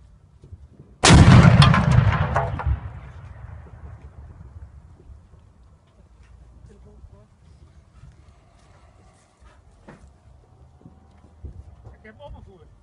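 A carbide cannon, set off by a lit firecracker that sends a flame into the can, fires one loud booming blast that rolls away over several seconds, followed by quiet outdoor ambience with faint wind in the Achterhoek countryside.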